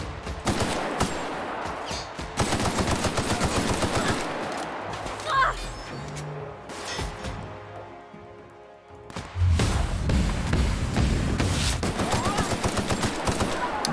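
Full-auto rifle fire in The Outer Worlds comes in long rattling bursts of rapid shots, broken by a quieter stretch with faint rumbles before another loud sustained burst.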